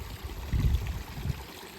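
Water trickles faintly through a boggy stretch of hill path on the Elidir Fach and Elidir Fawr walk, a low, soft gurgling murmur with slight swells, heard alone outdoors.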